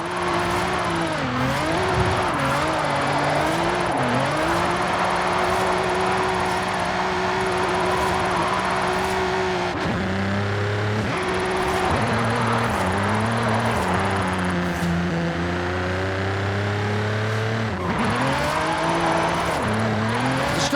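A Nissan GT-R with a twin-turbo VR38DETT engine and a drift build in Forza Horizon 5 roars continuously. The loud engine climbs and falls in pitch through repeated revs and gear changes, with a steady whine underneath.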